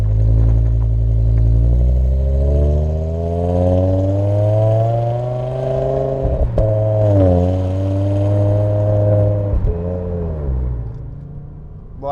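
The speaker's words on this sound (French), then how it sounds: "On entend déjà le moteur qui vrombit et il y a l'échappement qui fait pas mal de bruit." A loud BMW M6 V10 engine revs continuously, its pitch climbing and dipping, with a throaty exhaust rumble and no talking.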